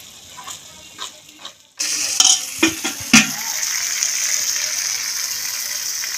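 After a few faint knocks, a ghee tadka is poured onto chickpeas and saag and bursts into a sudden loud sizzle, with sharp crackles and spoon scrapes early on, then a steady hiss.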